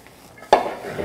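Chopsuey vegetables are stirred in a pan, with one sudden close scrape and clatter of a utensil against the pan after a quiet moment.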